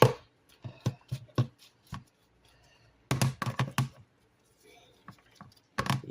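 Cheese is shredded by hand on a grater in a home kitchen, giving short scraping strokes in quick bursts with pauses between them. The sound is close and fairly quiet.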